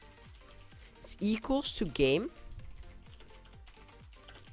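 Quick keystrokes clatter on a computer keyboard while a Roblox Studio script is typed, the soft clicks running steadily throughout as a person talks over them in the middle.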